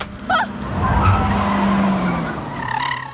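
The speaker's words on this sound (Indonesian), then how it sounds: "terpaksa menabrak pembatas jalan dan pingsan" A car skids on a road, with tire squeal and engine noise rising loudly and staying steady through the short moment before it strikes a road barrier.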